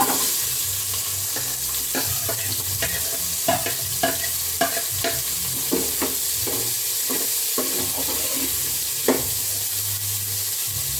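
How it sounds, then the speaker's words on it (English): Onions for a Kenyan omena (sardine) dish fry in a pan, giving a steady close sizzle broken by scattered sharp clicks and scrapes of stirring, with no talking. "So we pour our onion."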